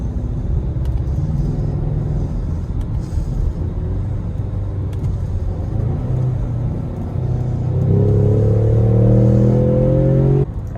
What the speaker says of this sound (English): let's take a look at some of the examples for downshifting